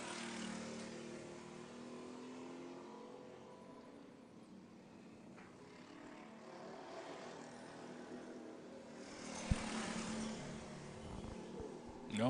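Go-kart engines racing in a winter race, a continuous droning whine from several karts at a distance, swelling slightly near the end, with a commentator's voice faintly present.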